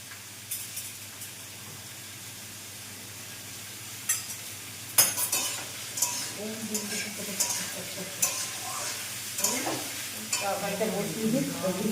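Potato curry (aloo chorchori) cooks in a pan with a soft background sizzle, broken by repeated close scraping and clinking stir strokes that grow busier toward the end.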